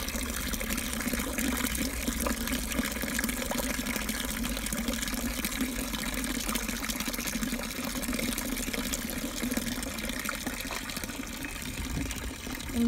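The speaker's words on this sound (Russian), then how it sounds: "можно бесконечно стоять у текущей, бегущей воды и слушать эти звуки" Running water flowing steadily in Vorontsov Park, Alupka, Crimea, a continuous broadband gush that holds even and fairly close throughout with no talk.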